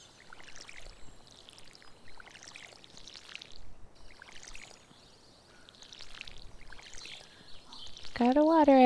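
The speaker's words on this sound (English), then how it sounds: "Oh, we gotta fill up our water thing. Our watering can." Water pours and splashes in short bursts as a watering can fills up in Stardew Valley, with a bright rising chirp at the very end.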